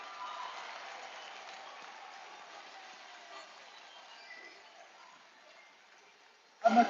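Crowd cheering and applauding at a college men's ACHA Division 1 ice hockey game in Ames, Iowa, after a goal ties the score; a steady roar of a large arena crowd fades slightly, then a sharp burst swells at the end.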